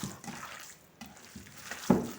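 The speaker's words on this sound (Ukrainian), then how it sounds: "Щоб начинка була соковита, я додаю так 20 мл води" Small splashes and trickles of water poured into minced meat dumpling filling with onion, salt and pepper, soft and close, in a few short bursts.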